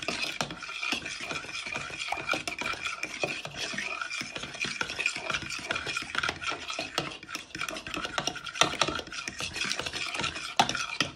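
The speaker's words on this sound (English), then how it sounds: "Once you have poured half the milk into the bowl with your eggs, you want to give it a good whisk" Eggs and half the milk whisked briskly in a bowl, a steady scraping and rattling churn that runs continuously and close up, with no talking.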